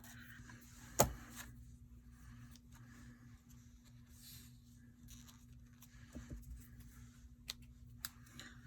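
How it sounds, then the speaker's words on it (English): A single crisp snip from a pair of scissors cutting twine at a paper-craft table, brief and fairly close against a quiet background with a faint steady hum. "Scissors for ribbon or twine."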